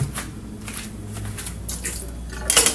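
Water splashes and trickles into a cooking pot while paksiw galunggong is prepared, with brief uneven pours and drips and a louder burst of splashing at the end, close and clear.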